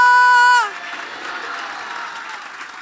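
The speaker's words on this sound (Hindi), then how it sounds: "अपने लिए तालियां बजा दें" A congregation at a church service applauding: a short sustained tone cuts off, then dense, even clapping from many hands carries on at a steady level until the end.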